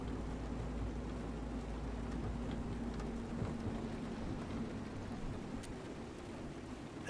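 Steady rain in the video game Road 96, a soft constant hiss with a low rumble underneath, continuous and fairly quiet throughout.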